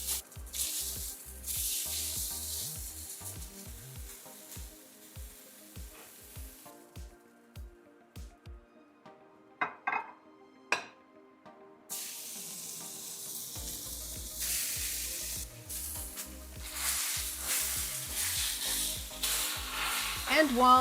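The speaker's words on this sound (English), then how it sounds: "And while the steaks are grilling" Carne asada steaks sizzle on a grill after being seasoned with Sonoran Classic, salt and pepper, a steady hiss broken by a quieter stretch midway, then loud, dense frying noise returns.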